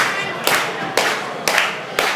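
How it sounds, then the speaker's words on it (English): At a 2KW Pro wrestling match between EA James and Ken Broadway, the crowd claps in a steady rhythm of sharp, loud claps about twice a second, with cheering noise between them. "That's the crowd getting crazy behind E.A. James"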